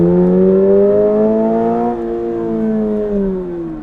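A Toyota GR86 with its new 2.4-liter engine revs loudly and steadily, strong harmonic tones holding, then falling slightly and settling around the two-second mark, with no talking.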